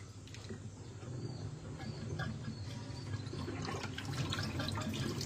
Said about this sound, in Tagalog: Tulungan niyo ako maghugas.